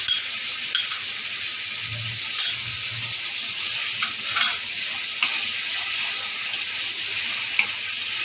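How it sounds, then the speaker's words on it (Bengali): Ginger garlic paste fries in a pot for chicken tehari, giving a steady, hissing sizzle. Occasional spoon scrapes and taps sound close by as the paste is stirred, with no voices. "একটু ভালো করে নেড়ে চলে নেব"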